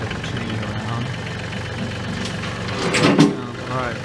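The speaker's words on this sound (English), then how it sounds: "Got Jim on the tractor over here." A tractor engine runs at a ranch where an arena is being built, giving a steady, close low rumble that swells briefly near the end, with faint indistinct voices in the background.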